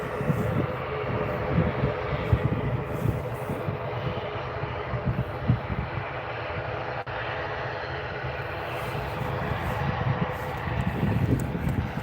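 Aircraft engine noise from a Qatar Airways plane at Edinburgh Airport, a steady broad roar heard from a distance, mixed with wind buffeting the microphone throughout.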